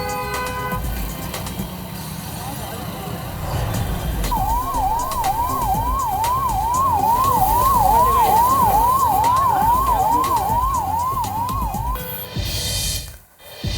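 A wailing fire brigade siren at the scene of a fire, its rising-and-falling tone cycling steadily for several seconds over traffic and street noise, loud and fairly close.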